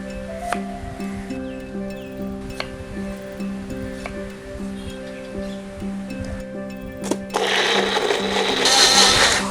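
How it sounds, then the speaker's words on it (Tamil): A kitchen mixer grinder runs with two halved tomatoes inside, a close, steady motor whine that swells into a loud, rough whirring roar near the end. "2 தக்காளியை ஒன்று பாதியமாக கட் பண்ணி மிக்சியில் நல்லா அரைச்சிக்க போகிறேன்"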